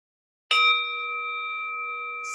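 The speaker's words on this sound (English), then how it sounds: "When you hear the sound of the bell," A single clear meditation bell strike rings out near and bright, then sustains as a long, steady, shimmering tone that slowly fades.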